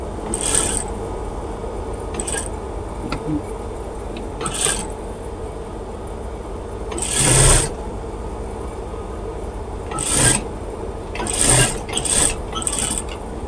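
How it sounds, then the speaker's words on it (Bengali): A sewing machine stitches fabric for a girl's baby half pants in short rasping bursts spaced several seconds apart, with quiet handling in the gaps. "এই যে আমি সেলাইটা দিয়ে নিলাম"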